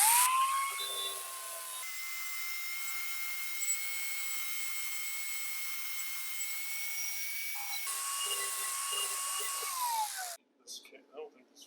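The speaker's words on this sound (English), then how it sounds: "We took the bolt out and we're gonna grind it a little bit shorter." A bolt from a car throttle cable stop is ground shorter on a bench grinder, giving a steady high-pitched whine that holds for several seconds, dips briefly and then winds down.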